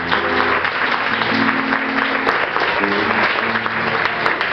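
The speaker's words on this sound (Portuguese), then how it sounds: "Uma salva de palmas para Jesus." A church congregation claps loudly and continuously during a service, a full sustained wash of applause with organ or keyboard tones sounding beneath it.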